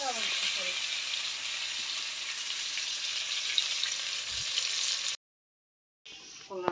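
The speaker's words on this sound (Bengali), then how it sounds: "এই আলুগুলো একটু ভালো করে ভেজে নিব" Potatoes frying in oil in a pan with a little salt, a loud steady sizzle close up that cuts out briefly near the end before resuming.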